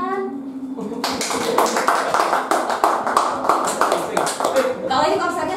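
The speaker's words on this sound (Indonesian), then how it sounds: "Coba tepuk tangan." An audience at a music talk show bursts into loud, dense hand clapping that continues steadily for several seconds after a brief opening of speech, with voices heard over the applause.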